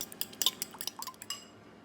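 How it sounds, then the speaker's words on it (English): Butter, sugar and vanilla go into a bowl of flour and baking powder for fairy cakes, giving a quick run of light clinks and taps of a utensil against the bowl, fairly faint, then falling quiet. "We're going to add our butter, sugar and vanilla into our flour and baking powder bowl"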